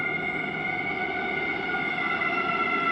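A Warsaw metro train arriving at a station hums nearby with a steady electric motor whine over a low rumble, continuous and fairly quiet.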